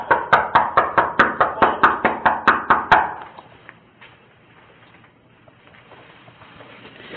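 About a dozen firm, evenly spaced knocks on a door ring out close and loud, then stop, leaving faint background noise.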